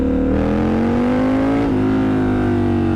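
A Triumph Scrambler 1200 motorcycle revving at full throttle, its engine note climbing steadily in pitch, dipping briefly, then rising again, loud and close with no talk.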